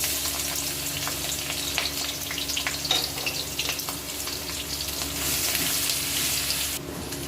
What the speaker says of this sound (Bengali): তেলে করে দিয়ে দিচ্ছি কাঁচা লঙ্কা